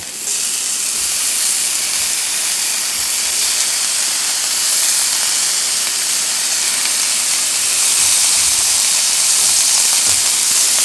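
Bacon spits and hisses in a hot pan over a wood-fired forest kitchen stove, a loud, continuous sizzle with no break across the whole stretch.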